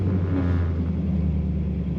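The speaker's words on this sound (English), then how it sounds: "We'll get a little rumble letting off the throttle." A 1971 Chevrolet Chevelle's V8 engine rumbles low and steady as the throttle is let off, a deep continuous burble heard close up with no talking.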